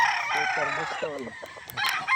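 A Harold Brown gray gamefowl rooster, a two-way cross, crows loudly and close by in one full call, with a second bird's crow starting near the end.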